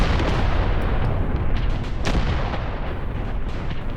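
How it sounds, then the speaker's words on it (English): A video-game artillery strike in a Graviteam Tactics Mius battle: a dense, continuous roar of shell bursts and booms, loud and sustained, with no pauses between impacts. "Once the artillery strike has finished."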